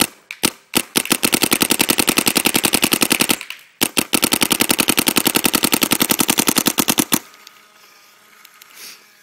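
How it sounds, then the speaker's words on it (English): An Ego paintball marker fires rapid bursts through half a hopper: two long, fast, evenly spaced strings of sharp pops with a brief pause between, loud and close, then it falls quiet. "That was pretty delicious. I have to say, that was probably the best shooting ego I've ever shot in my life."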